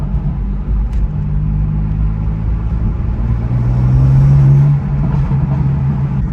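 A BMW M4 CS engine hums and rumbles from inside the cabin while driving, a steady low drone that swells briefly as it picks up revs before settling back.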